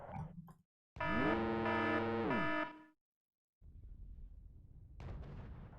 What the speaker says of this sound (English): Some mortar too.